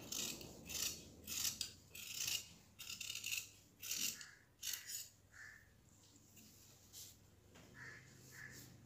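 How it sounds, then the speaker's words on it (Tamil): Scissors cut through silk saree fabric for gown sleeves, giving a series of soft, close snipping and rasping strokes in uneven bursts at low volume, with no speech. "இப்போ நம்ம ஃப்ரண்ட் அண்ட் பேக் ஸ்லீவ் வந்து நம்ம கட் பண்ணிட்டோம்."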